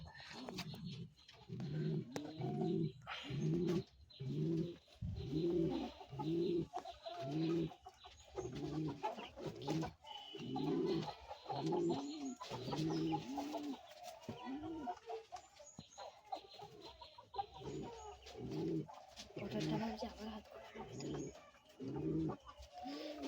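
Domestic pigeons coo over and over in a steady rhythmic series of soft throaty calls, close by and continuous, with faint other bird sounds in the background.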